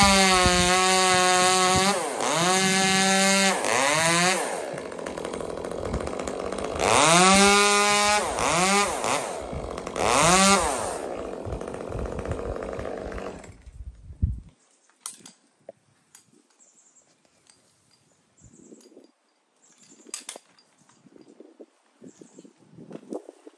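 A chainsaw with a freshly ground chain cuts into a tree top above a deck, its engine loud and close with repeated revving surges and pitch dips for about fourteen seconds before cutting out, followed by faint scattered knocks and rustles.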